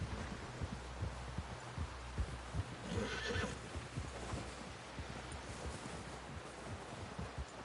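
A horse in the video game Red Dead Redemption 2 whinnies and snorts amid steady hoof clatter and rustling, a brief louder burst standing out midway, with no voices over it.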